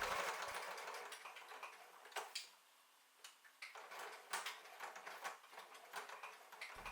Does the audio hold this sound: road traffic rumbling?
no